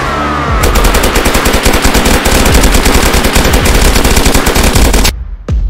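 Rapid automatic gunfire from the video game DayZ fills the clip in a loud, continuous burst of shots, cutting off abruptly near the end.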